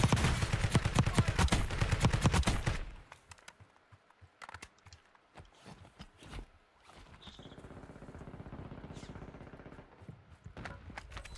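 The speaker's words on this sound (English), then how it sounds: "Somebody's shooting at somebody down here." Gunfire in Call of Duty Warzone, a dense burst of rapid automatic shots at the start, then scattered sharp distant cracks and pops continuing more faintly.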